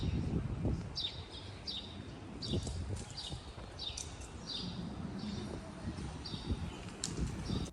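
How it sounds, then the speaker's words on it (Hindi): Small birds chirp in the trees of an evening residential area in Discovery Gardens, Dubai, giving repeated short, bright calls over a steady background of outdoor noise and low rumble. "पर्सनली मुझे यहाँ पे परिंदों के चहचहाने की आवाज़ें फ़र्स्ट टाइम आई"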